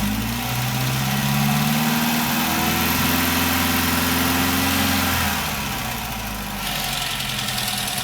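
A Triumph TR4A engine idling on HS6 carburetors, a close, steady low rumble with a faint lumpy pulse, dropping slightly in level near the end before settling back.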